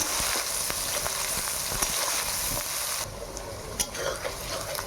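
Chopped onions sizzle in hot oil in a kadai while being stirred, a loud continuous frying hiss with scraping strokes that softens slightly toward the end.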